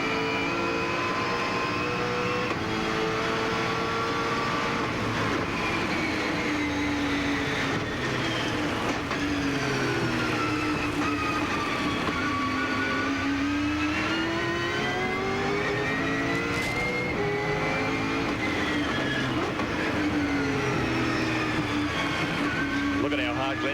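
Onboard view of a 1999 Ford V8 Supercar at Oran Park, flat out at about 180 km/h over a blind rise, its engine a steady loud drone with rising and falling pitch under continuous commentary.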